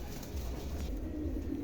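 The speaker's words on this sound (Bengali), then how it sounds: "এখানে একজোড়া অ্যান্ডোলিশিয়ান ফান্টেল আছে, আমেরিকান ফান্টেল" A pair of Andalusian fantail pigeons, white-tailed with single-colour bodies, coo softly and low alongside a steady background hum.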